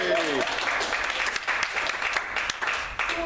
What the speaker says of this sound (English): So can we give Chris a round of applause?